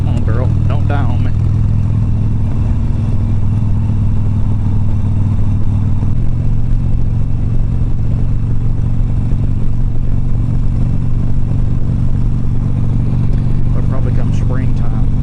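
A Harley-Davidson Sportster motorcycle, running rough and prone to stalling, rumbles steadily throughout while being ridden, with a constant deep engine drone and wind-like noise and only brief traces of a faint voice.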